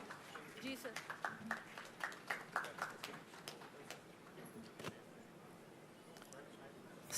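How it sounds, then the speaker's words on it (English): Scattered clapping, faint and somewhat distant, from an audience at a ceremony marking the foundation of a defence engineering plant, with a few distinct sharp claps standing out over a quiet room. "please give a huge round of applause and let me welcome Shri Sunil"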